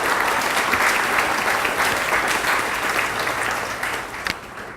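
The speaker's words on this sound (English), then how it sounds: "So let's give that team a round of applause" An audience at a laboratory ribbon-cutting ceremony applauds steadily, a dense sustained clapping that stays loud and even before tapering slightly at the end.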